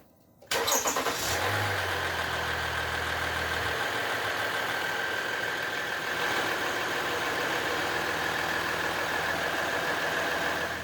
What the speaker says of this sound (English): We can now start our engine up, let it run for a bit